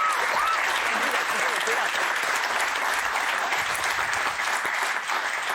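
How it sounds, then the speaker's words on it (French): Steady audience applause, dense and continuous, many hands clapping at once for several seconds. "Applaudissements pour Nico qui est notre community manager."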